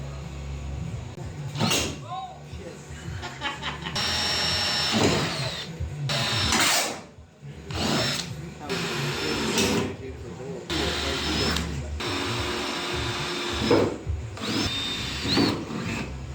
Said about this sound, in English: looking at drilling holes.